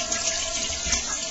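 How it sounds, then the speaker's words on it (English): A toilet flushing nearby, a steady rushing of water that runs unbroken for the whole moment, fairly loud and with no voices over it. "Let me flush it."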